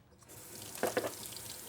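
Water runs from a tap into a kitchen sink while something is rinsed during cooking, a faint steady trickle with a couple of brief louder splashes.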